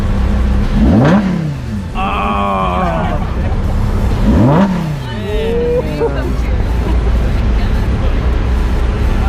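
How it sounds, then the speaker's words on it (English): Chevrolet C6 Corvette V8 engine revved while parked, giving two sharp rising-then-falling blips close by, with a steady idle rumble between them and people talking over it. "If parking brakes on, you can rev it up if you want."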